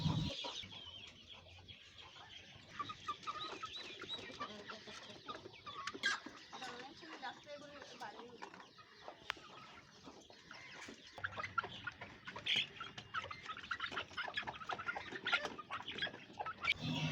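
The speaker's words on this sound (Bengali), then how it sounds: "আমাদের মুরগিগুলো শাক বেশি পছন্দ করে তাই দেওয়ার সাথে সাথেই তারা সব খেয়ে ফেলে" Native chickens on a rooftop cluck and murmur while pecking at greens mixed with a little paddy, a continuous busy chorus of soft clucks at close range with scattered pecking sounds and faint voices in the background.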